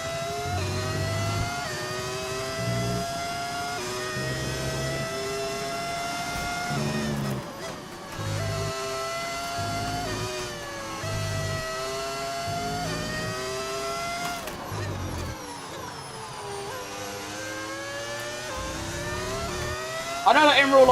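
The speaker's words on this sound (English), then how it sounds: "It's a mod you get on overtake.gg that turns your engine into a V10." An F1 25 video game race car fitted with a V10 engine sound mod screams at high revs in a loud, continuous whine, its pitch climbing repeatedly through upshifts with brief dips between gears, persisting throughout without a break.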